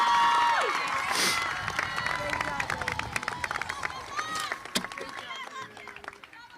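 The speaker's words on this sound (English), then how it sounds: "Let's give them one big, big round of applause." A large crowd applauds and cheers for a graduating class at a school promotion ceremony, loud sustained clapping with scattered whoops and shouts that slowly thins out over several seconds.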